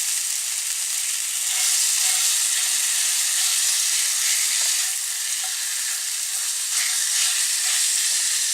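Pork and mushrooms fry in a pan on a camping stove inside a van, a loud, steady, close hiss and crackle with brief scraping from stirring and no talk.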